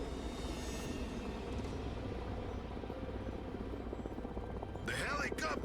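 A helicopter in the video game Broken Arrow holds a steady, low rotor drone throughout, joined near the end by a brief higher whooshing burst.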